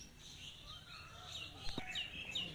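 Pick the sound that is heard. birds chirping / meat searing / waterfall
birds chirping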